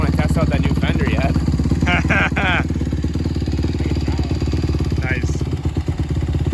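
A Honda 150R four-stroke dirt bike engine runs loud and close with a steady, rough drone and small swells in pitch, while voices speak briefly over it early on.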